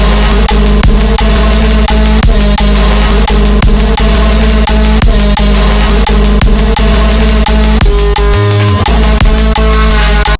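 Drum and bass track built from a creaking chair sample with drums and a deep sub bass, loud and dense with fast rapid hits throughout, playing alone before stopping.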